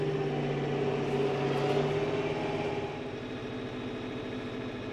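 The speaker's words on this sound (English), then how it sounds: "As we press forward, we're gonna watch the RPMs rise." A Kioti DK10SE tractor engine runs steadily near 1800–1900 RPM with a droning harmonic hum that holds for a few seconds, then settles slightly lower and quieter, close by with no talk.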